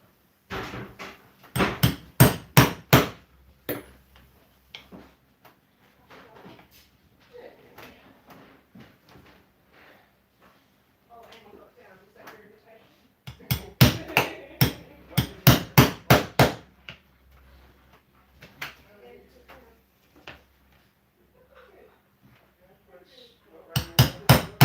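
Diamond awls are hammered through leather to re-drill stitching points on a tabletop, with loud rapid clusters of sharp strikes separated by quieter stretches of handling and murmured talk.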